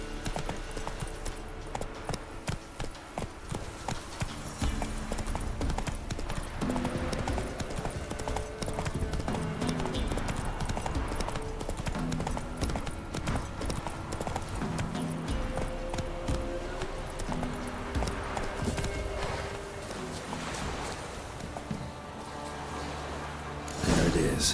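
Roach, a horse in The Witcher 3, gallops with steady, continuous clip-clop hoofbeats, close and prominent, over a busy game soundscape, with an occasional snort or whinny.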